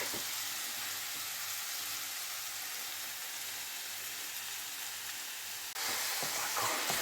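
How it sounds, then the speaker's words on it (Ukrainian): Carpathian porcini mushrooms frying in a pan give a steady, close hiss and crackle that sharpens near the end, heard alone without talk. "Зараз трохи смажаться, підтушкуються."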